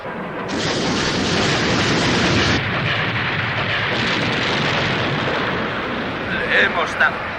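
A dense, roaring barrage of rocket fire rushes on steadily for several seconds, then fades into a couple of sharper booms near the end.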